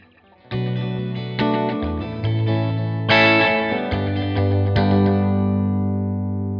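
Distorted electric guitar run through combined tape delay and reverb from Arturia FX Collection, a series of chords and notes struck in turn with smeared echoes and a long reverberant tail fading at the end.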